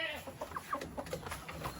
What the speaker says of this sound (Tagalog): Pakainin natin yung mga manok.